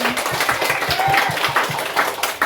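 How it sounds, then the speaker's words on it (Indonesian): Children at a neighbourhood RT 17 outreach session clap together in a quick, patterned rhythm, a dense group sound under a faint murmur of voices. "Oke, tepuk tangan lagi dong"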